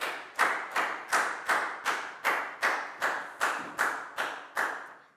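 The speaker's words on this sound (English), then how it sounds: "Big round of applause for Prel" Hands clap in a classroom to applaud a student, about eleven single sharp claps in a steady slow rhythm, each decaying quickly, close and fairly loud with no talk over them.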